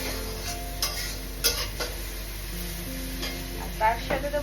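Tomato tipped into hot oil and spices for a tadka, setting off a steady sizzle in the pan with scattered clinks and scrapes of a stirring spoon and a faint ticking tone running underneath.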